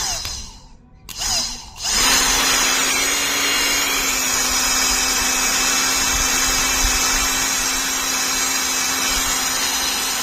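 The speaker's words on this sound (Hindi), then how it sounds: "तो इसके आरपीएम ज़्यादा है, इसकी स्पीड से आपको पता चल जाएगा, देखना" A modified 775 DC motor spins up after a couple of brief bursts, then holds a loud, steady high-pitched whine at high speed for the rest of the stretch.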